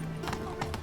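Roach, the horse from The Witcher 3, gallops in a short burst of clip-clopping hoofbeats, several quick strikes close and loud over a steady game ambience, with a brief whinny-like tone.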